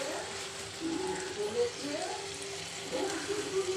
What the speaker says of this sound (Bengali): এবার মশলার সাথে আমি ওই যে ভেজে রাখা আলু আর ফুলকপিগুলো দিয়ে দিব, দিয়ে আমি আরেকটু ভালোভাবে কষাই নিব